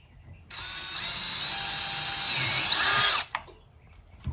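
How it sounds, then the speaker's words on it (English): A power drill boring a hole for a hood pivot, one continuous high whirring run of about three seconds that rises slightly before cutting off, followed by a couple of short clicks and handling knocks. "drill it out."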